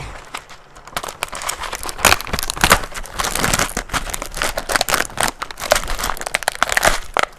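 Crinkly plastic packaging of a self-heating emergency hot-pot meal is torn open and crumpled, loud, close, continuous rustling and crackling with sharp tearing bursts throughout.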